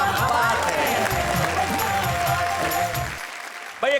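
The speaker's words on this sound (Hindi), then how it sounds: "जरा तालियां बजाइए" A live audience at a Hindi poetry recital breaks into sustained, fairly loud applause with crowd murmur, which cuts off near the end as a voice begins.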